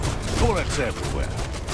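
Video game gunfire in Biomutant: dense, overlapping volleys of shots amid loud game noise and whooshing effects, a near continuous barrage throughout the short stretch.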